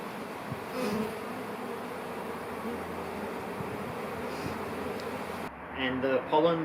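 Honey bees buzzing at a beehive, a dense continuous drone close by that cuts off abruptly near the end, followed by a voice speaking.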